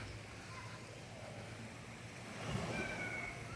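Waves roll in at a beach in San Juan, La Union as a faint, steady wash, with a slight swell in loudness near the end and a trace of distant voices.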